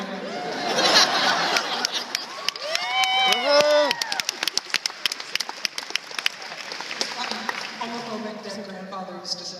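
An audience cheers, whoops and laughs, then breaks into sustained loud applause of many clapping hands in a hall, with a few voices calling out over it.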